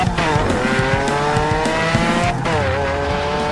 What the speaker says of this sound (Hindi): बर्फ से ढकी इन शांत और सुनसान सड़कों ये हरा मॉन्स्टर ट्रक अपनी साहसिक यात्रा पर निकला है